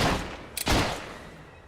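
A gunshot in the video game Fable 3, a single loud blast with a short burst of crackle that decays into a fading rumble, heard alone without talk.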